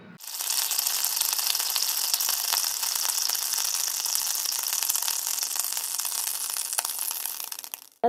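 A curry of snake gourd and small shrimp simmers on low heat in a pan, giving a steady, even bubbling sizzle that stays close and unbroken, with no voices over it.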